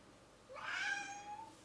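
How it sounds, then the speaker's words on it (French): A house cat gives a single drawn-out meow, rising then holding and tapering, close and clear against a quiet indoor room with no talk. "Donc vous avez en primeur mon chat"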